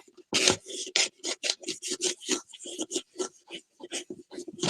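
Alcohol ink rubbed by hand onto the surface of a gourd, heard close as a quick series of short, scratchy rubbing strokes in a steady back-and-forth rhythm.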